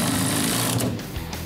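A power tool runs a nut down on a 1971 Cuda in a loud, continuous rattling hammer that holds for about a second, then eases slightly lower before stopping.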